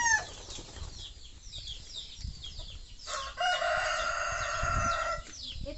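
At a backyard pen of gamecocks, a rooster lets out a long crow, with other fowl clucking and a brief flutter of wings around it, all somewhat distant.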